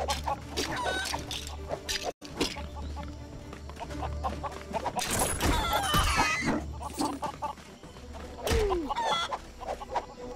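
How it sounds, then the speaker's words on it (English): Chickens in the video game Lego Worlds cluck and squawk in repeated bursts as they attack, loud and close amid a busy mix of other game sounds. "Oh, we're being attacked by chickens."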